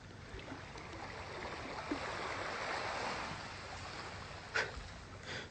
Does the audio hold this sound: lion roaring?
no